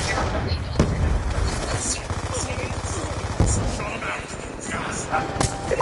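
Scattered Call of Duty: Black Ops 2 gunfire, including sniper shots, cracks out in several sharp reports over a busy battle din, with a voice talking throughout.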